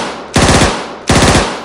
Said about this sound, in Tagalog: Nabulaga ang mga taga-baryo sa pagratrat ng baril sa isang sasakyan